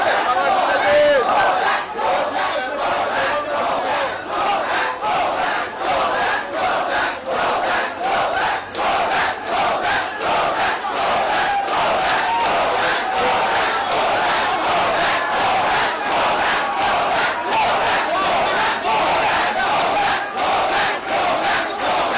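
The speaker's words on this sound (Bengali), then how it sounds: "তারা ঢুকতে গো ব্যাক স্লোগান দিতে থাকেন এই আন্দোলনকারী চিকিৎসকরা" Protesting doctors at National Medical chant 'go back' slogans in a loud, continuous crowd, voices rising and falling in a steady rhythmic beat throughout.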